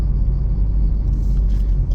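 UK-plated Land Rover driving past at close range, a steady low engine rumble holding level for a couple of seconds with no talk over it.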